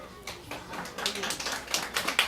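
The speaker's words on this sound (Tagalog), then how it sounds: "Ang hina naman ng palakpak, halatang gutom na." Scattered, thin clapping from a small audience at a family reunion, irregular and uneven, swelling a little toward the end, with no voices over it.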